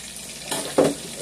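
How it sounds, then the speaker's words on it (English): Mushrooms cooking down in a pan for a smothered beef liver dish give a steady soft sizzle, with two brief louder bursts of frying or stirring near the middle. "Okay, so we'll let our mushrooms just go ahead and cook down."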